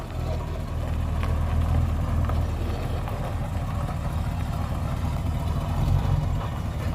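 A 1966 Dodge Monaco 500 with a dragging brake runs close by, its engine a steady low rumble with a slight swell as it pulls away, with no talk over it.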